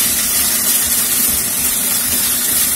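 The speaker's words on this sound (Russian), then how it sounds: "И обжариваем ее" Chicken breast searing in a hot pan over high heat, giving a steady, dense sizzle and hiss that runs evenly throughout with no pauses and no talking.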